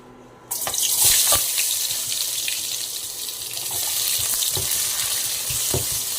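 Tomatoes and onions hit smoking-hot oil, bursting into a loud, steady sizzle after a quiet start, with scattered sharp crackles and spatters over a dense hiss, no talking.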